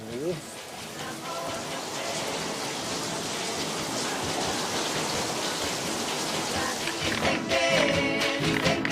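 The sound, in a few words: rain falling on a rainy afternoon in Chiloe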